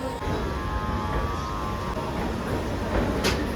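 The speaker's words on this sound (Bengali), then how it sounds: "আর এখন আমাদের ট্রেন ছেড়ে দিল মালদা টাউন রেলওয়ে স্টেশন থেকে" The Gour Express, train 13154 on the Sealdah–Malda Town route, pulls out of Malda Town station with a steady, continuous rumble and faint tonal whine heard from inside the carriage.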